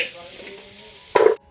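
Fried garlic scraped into a cooking pot, a soft stirring sizzle followed by a short loud clatter and hiss as it drops in, then abrupt quiet.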